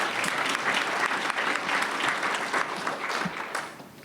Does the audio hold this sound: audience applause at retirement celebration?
yes